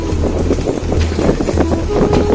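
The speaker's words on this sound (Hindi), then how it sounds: "ये साउंड न्यूट्रल में चल रहे बाइक और हवा की है।" A Honda CB300F motorcycle idles in neutral on a village ride near Chamba, a low steady engine hum running continuously beneath loud, buffeting wind noise.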